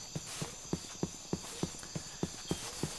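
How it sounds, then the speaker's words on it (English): Donkey hooves clip-clop in a steady walking rhythm in Terrafirmacraft, a Minecraft mod, about a dozen evenly spaced soft knocks over a faint constant background hum, with no talking. "It looks like there's some donkeys up there."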